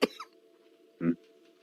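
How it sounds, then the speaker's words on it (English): Two short coughs, one sharp at the start and another about a second later, separated by a quiet steady hum. "Sorry, coughing fit."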